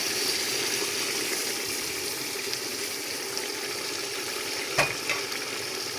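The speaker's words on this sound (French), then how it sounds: "On laisse le tout mijoter un peu." Stuffed lamb tripe simmering in homemade tomato coulis with paprika in a pot, giving a steady soft sizzling bubble throughout with a brief louder stir or clink near the end.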